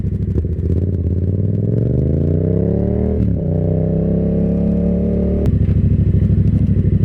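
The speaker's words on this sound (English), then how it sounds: "All right, there it is, you guys. John's Moto Garage, the XSR700, aka Wheelie Monster" A Yamaha XSR700 motorcycle fitted with an M4 exhaust, idling loud and close, then revving up in a rising drone that settles before it snaps back to a throbbing idle.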